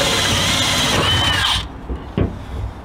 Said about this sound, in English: And then we're going to drill another hole into the unibody frame.